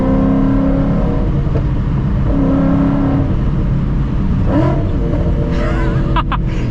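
A tuned Stage 3 Roush Mustang engine roars loudly and steadily at full throttle and high revs, with a brief shift in pitch and whirring mechanical noise near the end.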